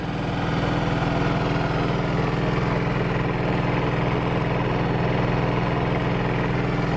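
A Cummins Onan QG2500i inverter generator runs under an air conditioner compressor load, giving a steady, deep, throaty engine drone near and loud without change for several seconds, with no talking.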